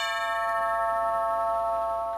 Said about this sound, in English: The doorbell rang at 39 Stevenson Avenue.